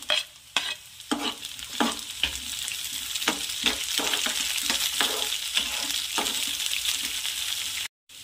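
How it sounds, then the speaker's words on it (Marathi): Onions and green chillies frying in oil for rava upma, a close continuous sizzle with regular scraping and clinking strokes of a spoon stirring the pan, no voices. "कांद्याला पण छान पकू द्यायचं आहे, मिक्स करायचं असं।"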